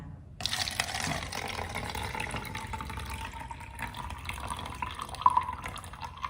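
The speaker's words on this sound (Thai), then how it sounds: "เราจะเทน้ำเปล่าลง ในแก้วใบนี้นะคะ" Plain water pours steadily into a glass for several seconds, a continuous splashing trickle with a rising tone as it fills, fairly close.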